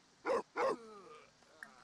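Two sharp dog barks in The Sims 4 in quick succession, fairly close, followed by a softer whining, whimpering tail and a faint click.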